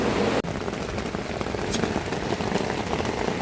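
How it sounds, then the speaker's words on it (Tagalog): Heavy rain pours steadily onto a surface at a family campsite, a continuous close hiss of drops with a brief dip near the start. "Lalakas ang ulan."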